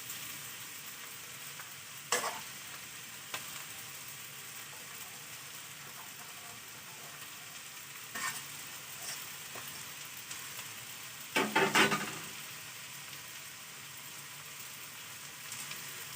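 Egg chow mein noodles fry in a hot pan with a steady soft sizzle, broken by a few sharp clatters of stirring, close and quiet with no talk.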